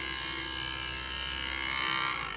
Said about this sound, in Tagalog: Ang ingay talaga nitong fan na to.